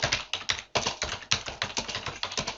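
Rapid typing on a computer keyboard, a steady run of close, crisp key clicks with uneven rhythm and short pauses, heard alone without talk.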